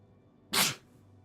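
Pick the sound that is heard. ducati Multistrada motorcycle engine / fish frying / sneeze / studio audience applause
sneeze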